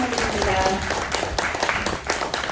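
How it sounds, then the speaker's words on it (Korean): An audience at a meeting at a welfare center for people with disabilities in Cheongdo claps in a ragged burst of applause, while a voice talks over it through a sound system. "좋은 말씀해 주신 김광환 지원 회장님께 다시 한번 큰 박수 부탁드립니다"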